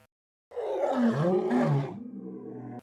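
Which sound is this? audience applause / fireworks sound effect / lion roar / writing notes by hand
lion roar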